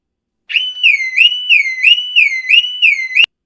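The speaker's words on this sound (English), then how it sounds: "So we have a car alarm." An electronic car alarm sounds alone and loud, a repeating warble of rising and falling tones cycling about six times before cutting off abruptly.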